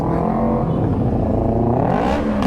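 Car engines rev loudly and continuously on a night ride, a dense, throaty drone that swells and climbs in pitch toward the end, with no voices over it.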